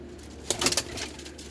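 A short burst of soft pigeon cooing from caged carrier pigeons, a few low warbling notes close by, over a faint background hum.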